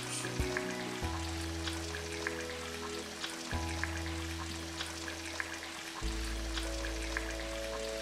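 Lobster roe frying in a pan, a steady soft crackle and sizzle of oil running the whole time, with low background hum and no voices.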